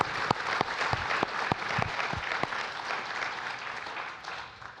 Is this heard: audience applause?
yes